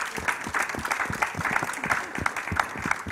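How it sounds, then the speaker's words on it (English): An audience at an art talk claps to welcome the speakers onto the stage, with a steady, fairly loud round of applause made of many distinct hand claps that keeps going throughout. "Please give them a very warm welcome. A big round of applause."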